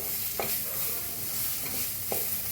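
Turmeric and spices roast in a little oil in a pan for a potato vada filling, a soft steady sizzle under a few sharp scrapes of a spoon stirring, close and fairly quiet.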